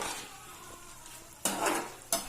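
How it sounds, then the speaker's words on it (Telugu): Chicken frying in a small amount of oil for egg rolls, a soft steady sizzle with two sharp bursts of louder crackle and clatter near the end, no talking. "ఇప్పుడు మనం చికెన్ ఫ్రై చేస్తున్నామండి."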